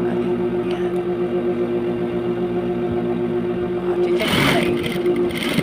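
Sewing machine stitching fabric for an all-purpose grocery bag, a steady mechanical hum with a brief louder burst of activity near the end.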